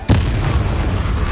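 An Incendio fire spell bursts out in Hogwarts Legacy, opening with a loud sudden boom and then a sustained dense roar of flame that lasts to the end without fading.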